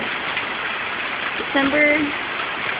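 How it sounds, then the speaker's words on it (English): Heavy rain pours down in Las Vegas as a steady wash of hiss. A person speaks briefly over the rainfall. "It is pouring rain."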